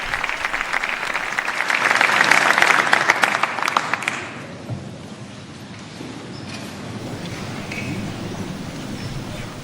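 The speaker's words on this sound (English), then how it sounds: "And we hear the sustained applause for Pope Leo's address to the civil authorities of Spain." Sustained applause from the audience after Pope Leo XIV's address to Spain's civil authorities in the Salón de Columnas, loud and dense for about four seconds before fading into a quieter room murmur.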